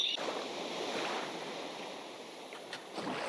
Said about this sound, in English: Sounds like the sea, doesn't it?